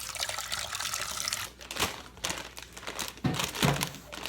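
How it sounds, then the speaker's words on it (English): Water poured for cooking pasta with ragu in a home kitchen: a short run of splashing and gurgling with soft thumps and crinkling, close and fairly quiet. "Pour in the water."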